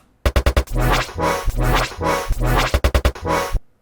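A quick electronic loop resampled from a chopped color bass sample: rapid stuttered stabs alternate with longer sustained bursts in a tight rhythm, loud and alone, without voices.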